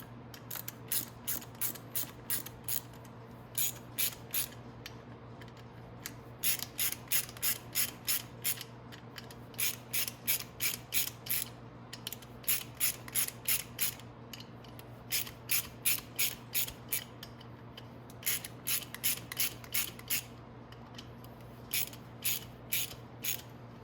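A cam chain tensioner on a 250cc engine ratchets in repeated bursts of quick, sharp clicks with brief pauses between them, close and steady throughout, with no talking.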